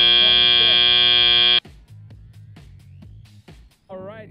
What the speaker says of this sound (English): as the buzzer rings